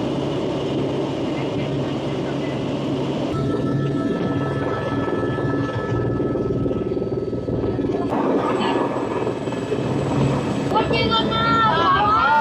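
Helicopter carrying pilgrims in flight to Kedarnath, a steady loud cabin drone and rotor rumble throughout with a shifting whine, people talking over it.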